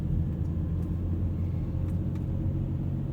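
A car cruising through a residential neighborhood, heard from inside as a steady low road rumble with a few faint knocks from a bump, no talking.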